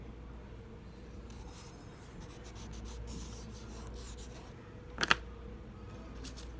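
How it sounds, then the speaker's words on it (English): A Lyra carbon pencil strokes across paper with a soft, dry scratching in short bursts, then a sharper tap or scrape stands out near the end. "Here we have a carbon, Lycra carbon pencil."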